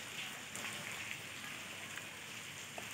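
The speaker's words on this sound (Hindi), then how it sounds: "दो तीन दिन से लगातार बारिश हो रही है" Steady rain falls in a soft, continuous hiss, with a few scattered drips standing out faintly.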